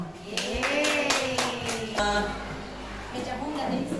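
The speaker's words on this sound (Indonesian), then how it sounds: "aplaus untuk kita semua" An audience at a school meeting claps in a short burst, close and moderately loud, while a voice speaks over and after the applause.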